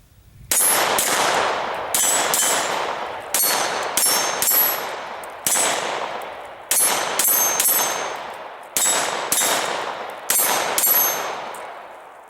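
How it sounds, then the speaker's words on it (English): Pistol rounds fired at steel targets: about ten sharp, loud shots in irregular pairs and singles, each followed by a bright metallic ring from the struck steel. No talking is heard. "Keep putting a few rounds on steel here."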